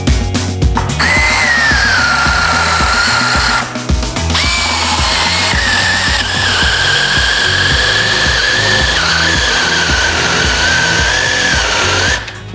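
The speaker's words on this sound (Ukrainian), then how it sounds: "Мені здається, що я не дуже рівно пиляю." A SEQUOIA SBC2004M-QV cordless mini saw cutting through wood, a loud continuous whining buzz with a steady pitch, briefly stopping twice before resuming, with no talk.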